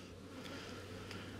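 Honey bees hum around hive frames during honey harvesting, a dense and steady low drone that stays faint and fills the whole moment with no talking.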